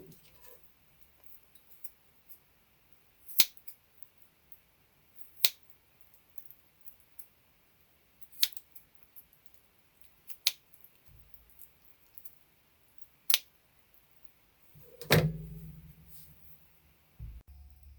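A knife cuts around the bones of chicken drumettes for lollipop chicken. Sharp, isolated clicks and taps come every couple of seconds over near silence, with a brief soft thud near the end.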